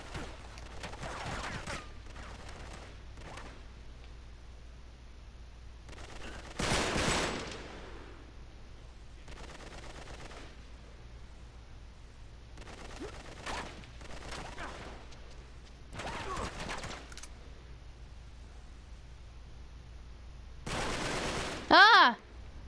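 Gunfire in the Uncharted video game, heard as scattered bursts of shots spread across a quiet stretch, with the loudest volleys near the middle and the end.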